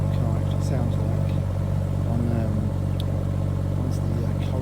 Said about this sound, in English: So this is what the car actually sounds like